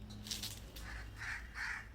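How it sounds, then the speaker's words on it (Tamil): Crows caw outdoors in a rural area near Dindigul, with several harsh calls spaced across the moment and heard clearly over low background hum. "காக்கா வந்தானே விரட்டுறா"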